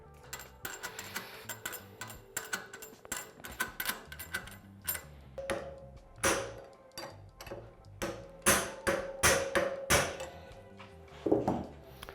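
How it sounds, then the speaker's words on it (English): Metal shock punch striking the spring lock ring on a Yamaha XT250 rear shock, a series of sharp ringing metallic taps, uneven and then quicker, close and fairly quiet, with no talk. "you can use that shock punch to help get that preload on there"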